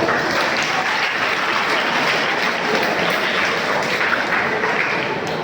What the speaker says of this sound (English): That is the last applause for that extraordinary, energetic performance.